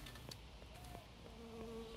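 A buzzing mosquito in the apocalypse shooter game BAD 2 BAD, a faint wavering insect drone with a few soft clicks over a steady low background.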